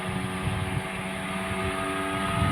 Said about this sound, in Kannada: ಬೋಟ್ ರೈಡ್ ಆಗ್ತಾ ಉಂಟು ನೋಡಿ.